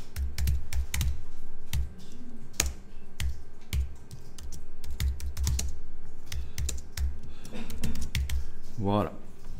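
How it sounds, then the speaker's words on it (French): Typing on a computer keyboard: steady, fast key clicks over several seconds, with irregular pauses and a brief higher sliding tone near the end. "vous allez taper un titre"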